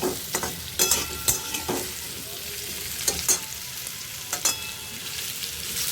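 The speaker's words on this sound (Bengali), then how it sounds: "এই যে দেখুন আমার প্রায় কুমড়ো ভাজা হয়ে এসেছে" Pumpkin pieces fry in oil in a pan with a bright, steady sizzle, punctuated by repeated sharp scrapes and taps of a spatula turning them, close and clear with no talking.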